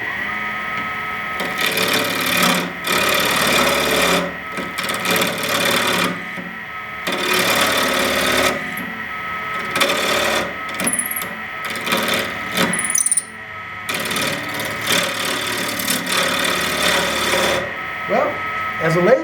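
Wen 3427 wood lathe spinning an ebony and lacewood veneer pen blank, a continuous close whirring hum with rough scraping as the tool bites the square-edged blank, interrupted by short pauses.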